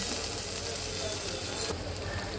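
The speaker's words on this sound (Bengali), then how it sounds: "পেঁয়াজটা একটু হালকা ভাজা হয়ে গেলেই হয়ে যাবে, খুব বেশি ভাজার দরকার নেই।" Onion frying lightly in oil in a pan: a loud, dense, continuous sizzle that eases slightly toward the end, with no talking.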